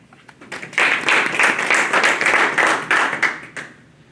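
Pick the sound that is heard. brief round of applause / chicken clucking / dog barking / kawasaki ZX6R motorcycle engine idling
brief round of applause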